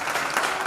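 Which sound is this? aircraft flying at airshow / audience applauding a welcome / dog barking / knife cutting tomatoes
audience applauding a welcome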